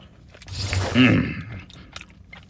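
Someone chews a crunchy cinnamon almond peanut butter protein bar, with a short close burst of crunching bites amid light background noise.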